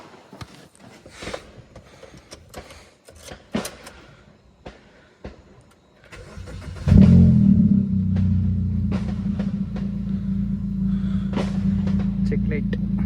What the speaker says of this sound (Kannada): ಸೊ ಈಗ ಕಾರ್ ಸದ್ಯಕ್ಕೆ ವಾರ್ಮ್ ಅಪ್ ಮಾಡಿ ಇಕ್ಕಿರ್ತೀನಿ.